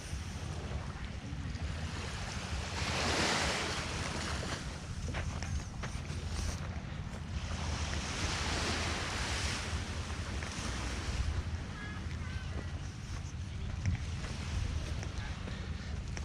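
Waves wash onto a beach on Koh Larn island, a steady broad surf roar with gentle swells, mixed with wind buffeting the microphone and a faint low rumble of boats offshore.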